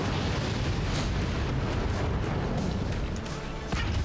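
Missiles launching and blowing up in the artillery strategy game Forts, a dense continuous roar of blasts and rumbling booms with no break, loud and close throughout.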